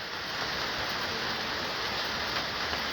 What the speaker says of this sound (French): Première pluie de l'année.